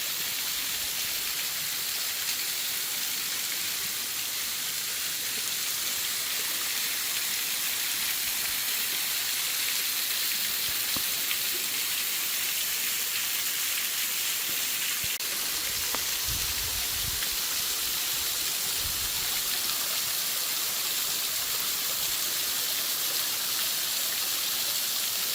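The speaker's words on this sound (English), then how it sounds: "it might be a bit slippery further I mean closer to the waterfall" Steady broadband rush of a waterfall in Krantzkloof Nature Reserve near Durban, a constant hissing roar throughout with a couple of brief low thumps near the middle.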